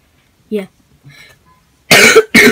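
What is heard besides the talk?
cough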